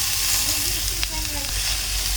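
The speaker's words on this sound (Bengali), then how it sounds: "ডাল দিয়ে একটু ভাজা ভাজা করে নেব।" Lentils fry in oil in a pan, a close, steady sizzle with a faint scrape of stirring partway through, and no voices.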